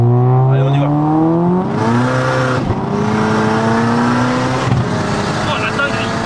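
A 700 hp Volkswagen Golf 6R accelerates hard past the listener, its loud engine note climbing through gears in a steady rising roar with brief shifts between pulls.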